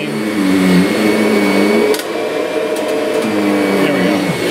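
A Kirby Sentria vacuum cleaner running after a new belt is fitted, a loud steady motor whine with pitch wavering and dipping, a few brief clicks, alone without talk.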